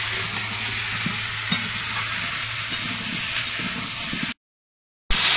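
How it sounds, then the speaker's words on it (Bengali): Taro frying in a pan gives a steady close sizzle with a few scraping stirs, then cuts to a brief silence before the sizzle returns loudly. "কচুটাকে ভালো করে ভেজে নিয়েছি"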